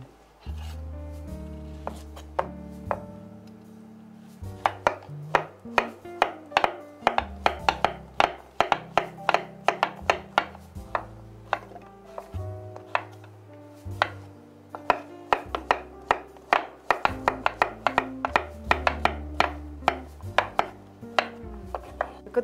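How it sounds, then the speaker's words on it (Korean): A knife chops through zucchini on a cutting board in a Korean home kitchen, with a long run of sharp, close, fairly even knocks against the board. No one speaks. "호박을 절반 썰어주세요"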